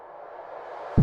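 A dubstep impact effect built from a clap drowned in heavy reverb: a rising, hissy wash that swells steadily, then a sudden deep low thump at the end.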